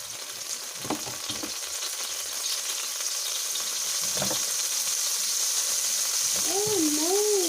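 Cooking oil sizzles steadily in a pan before chayote goes in, a constant frying hiss that slowly gets louder. A few faint knocks and scrapes sound over it, and a short tonal squeal comes near the end.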